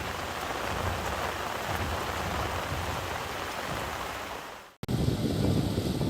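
Heavy rain pours steadily during flooding, a dense broadband hiss that fades briefly to near silence around the cut, then resumes just as loud.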